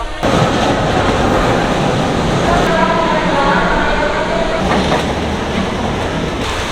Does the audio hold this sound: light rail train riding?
yes